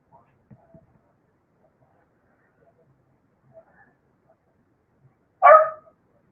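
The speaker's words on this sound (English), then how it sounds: "My dog wants up on the footstool with my dad." A single sharp dog bark rings out nearby indoors, loud and brief, after a stretch of near silence broken only by faint scattered small noises.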